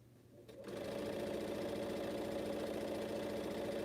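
A sewing machine starts up after a brief pause and stitches a quilt strip, settling into a steady, rapid mechanical hum and rattle that runs loud and close with no talking.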